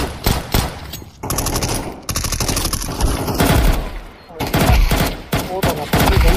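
Rapid automatic gunfire in the game Counter-Strike 2 rattles loudly in long sustained bursts, with brief gaps between volleys and a voice faintly underneath.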